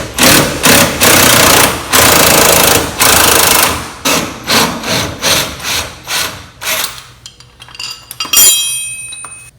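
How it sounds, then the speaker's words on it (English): Impact gun with a 17 mm socket hammering a coilover bolt on a Honda Civic EG, loud rapid rattling bursts in quick succession, then metallic clinks as the bolt comes free. "I need the 17 on the impact gun for this side"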